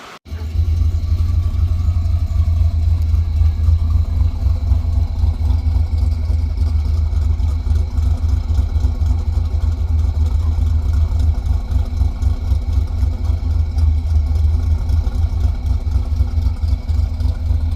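A Cadillac engine with its stock exhaust idles steadily for the full length, a loud, even low rumble with no revving and no voices.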